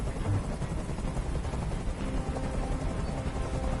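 Helicopter in the game Detroit: Become Human, a loud, constant rotor drone with dense thudding chop that holds steady throughout, with no talk.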